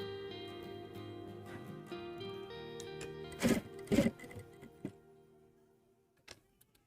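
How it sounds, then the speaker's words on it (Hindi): A sewing machine stitching the back pocket of a pair of trousers runs in a steady hum for several seconds, then stops and gives a few sharp clicks before quieting. "इस तरीके से इसको रखेंगे और सिलाई लगा देंगे।"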